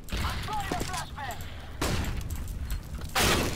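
Shotgun blasts in CS:GO, a few loud close bursts spaced apart with short gaps between them, mixed with a voice talking.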